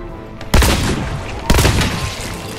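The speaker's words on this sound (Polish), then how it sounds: "Minus dwa strzały kolejne." A pair of heavy gunshots in Hunt: Showdown fire roughly one second apart, each a sharp, booming close report with a long rolling tail and no talking on top.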